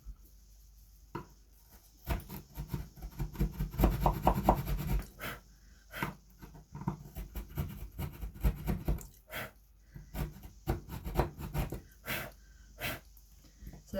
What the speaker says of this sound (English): I've literally just gouged out some wood with a blunt chisel